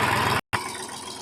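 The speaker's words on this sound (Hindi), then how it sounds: "अब ट्रैक्टर स्टार्ट करके आप कहीं जा रहे हो?" Farm tractor engine running in rural Rajasthan, a steady loud mechanical rumble heard close, briefly interrupted by a silent gap before resuming, with no talk.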